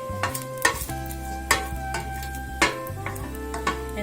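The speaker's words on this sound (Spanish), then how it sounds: "Ponemos un poco de aceite para sazonar, un poquito de cebolla para darle sabor a nuestro aceite" Chopped onion frying in oil in a pan while cooking pork ribs in green mole, a continuous sizzle broken by several sharp clinks and scrapes of stirring, close and fairly loud, no talking.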